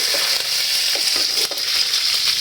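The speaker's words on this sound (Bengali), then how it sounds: "এবার পাতাগুলো দিয়ে দিলাম।" Lemon leaves fry with onions in a pan with a loud, constant sizzle, broken by several scraping clicks of a spoon stirring close by.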